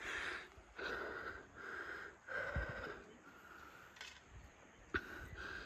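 Heavy, laboured breathing from a hiker trekking uphill at Vattavada in Kerala, a steady series of rasping panting breaths close to the microphone with no talk.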